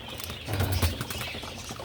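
Racing pigeon breeders shift and flutter inside their loft, giving a short burst of soft wing flaps and faint cooing rustle, close and moderately loud.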